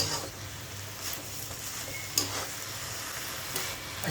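Chavdi greens frying in a pan while being stirred: a steady close hiss of sizzling with faint scraping ticks and one brief clink, even and moderately quiet throughout.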